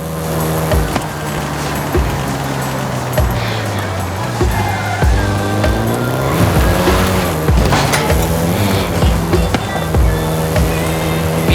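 Volkswagen Golf GTI driven in a racing video game, its engine droning steadily with shifting pitch and repeated clunks and rattles, loud and continuous with no talk.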